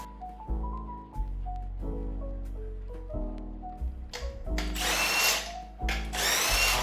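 Power drill removing an alternator bracket from an engine in a Locost 7 kit car build, several whirring bursts that rise and fall in pitch, with short pauses between them and louder spinning toward the end.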